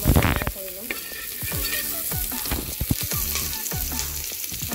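Onions frying in a small amount of oil, a steady close sizzle broken by repeated scraping and stirring knocks from a utensil in the pan, with no voices.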